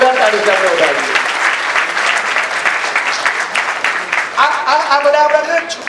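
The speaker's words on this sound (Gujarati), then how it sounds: "એક વખત હરેશભાઈ જાવિયાને બી જોરદાર તાળી આપણે ઉડાડીએ." An audience at a community mass-wedding ceremony honouring donors claps together in a sustained, dense round of applause that stays even for several seconds, with a voice talking over it near the start and end.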